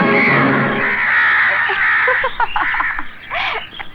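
A crow caws several times in quick, harsh bursts close by, following a stretch of noisy, rough sound.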